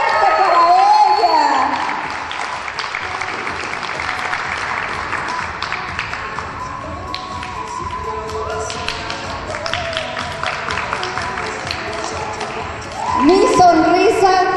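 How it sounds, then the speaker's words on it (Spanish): A crowd applauds and cheers for the winner of a beauty pageant final, loud and sustained throughout, with an announcer's voice rising over it near the start and again at the end. "¡Un aplauso fuerte para ella!"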